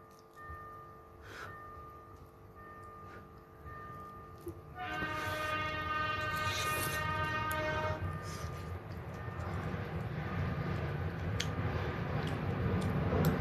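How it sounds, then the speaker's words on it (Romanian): A train passing close by, its horn sounding a long, sustained blast that swells louder midway, then the heavy rolling rumble of railcars continuing to the end with no voices. "Trenul."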